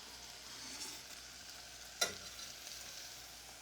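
Chopped chilies fry in a pan with a steady, soft sizzle, and a single sharp scrape of a stirring spoon cuts through around the midpoint. No one speaks.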